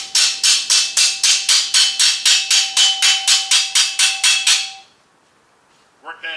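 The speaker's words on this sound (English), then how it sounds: "But it's a nice light hammer, so you don't make a big bend if you don't want to." A light hammer shaping sheet metal, striking in a fast, even run of about twenty sharp ringing blows, close and loud, then falling silent before a brief clank at the end.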